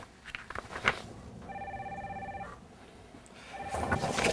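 An office telephone rings with a steady electronic trill lasting about a second, sounding over faint background noise, with speech starting just before and after the ring.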